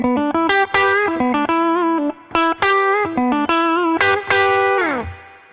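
Fender Stratocaster electric guitar played on the neck pickup through distortion and effects, ringing out a loud, close run of sustained single notes and chords with a brief pause midway and a final note sliding down.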